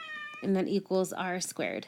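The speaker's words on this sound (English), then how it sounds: "sorry, that's my cat" A house cat meows loudly and close by, several drawn-out cries overlapping a voice as he talks through a math lesson.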